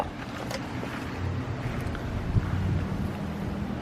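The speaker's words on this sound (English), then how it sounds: "I can barely get in with my mower" A riding lawn mower engine drones steadily and close at a constant pitch, with wind buffeting the microphone throughout and no talking.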